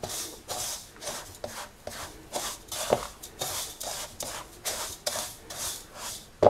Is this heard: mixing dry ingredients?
yes